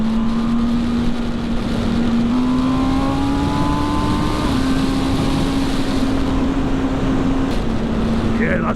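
A 2020 MV Agusta Brutale 1000 RR motorcycle engine drones steadily at speed, its pitch stepping slightly higher, with heavy wind rush over the microphone.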